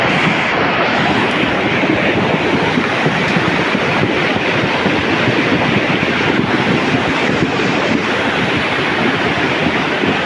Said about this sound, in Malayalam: ആ പോണെന്ന ചറപറ വെള്ളം